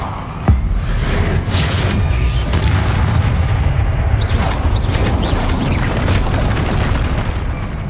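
Bombarda and Confringo spells explode during a troll fight in Hogwarts Legacy: a sharp crack opens a sustained wall of booming, rumbling blasts that continue loud and dense throughout, with crackling debris bursts layered over the roar.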